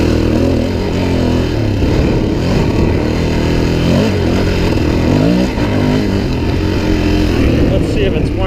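A Suzuki DRZ400e motorcycle engine idling and revving steadily, loud and close throughout, with a rider speaking over the constant engine rumble.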